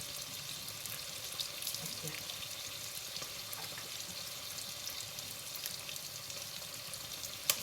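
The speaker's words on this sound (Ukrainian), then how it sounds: "Сюди ми даємо олійки і хай смажиться на чесночок також" Oil sizzles and crackles steadily in a pan as garlic fries, a constant close hiss with a few small pops and one sharp clink near the end.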